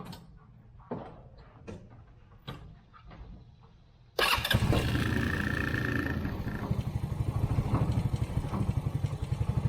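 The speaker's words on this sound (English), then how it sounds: "Let's start it up and see if we got any leaks." A Hammerhead Off-Road R-150 UTV engine cranks and fires after an oil change, settling into a loud, steady idle with a rapid pulsing rhythm, preceded by a few quieter clunks and taps.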